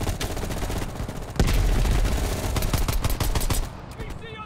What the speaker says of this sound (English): Going in with the AK.